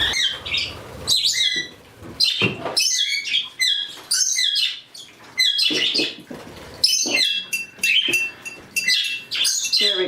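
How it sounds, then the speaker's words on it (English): Pet budgies let out of their cage chirp and squawk in a busy flock, sharp bright calls overlapping in quick bursts with short pauses between, close and fairly loud. "So I'm going to let out the budgies."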